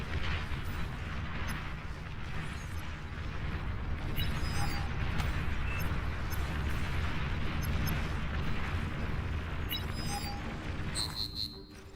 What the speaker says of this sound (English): Enemy commander destroyed.